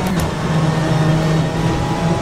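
Rear traction control of a BMW M8 GTE race car grinding away on a slippery wet track at Sepang, rFactor 2 racing game; a steady, loud engine drone with a constant low tone runs throughout.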